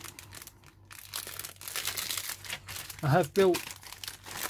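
A plastic bag of parts from an Academy 1/48 North American B-25B Mitchell model kit crinkles and crackles in close handling, with two louder bursts of rustling near the end while someone talks throughout.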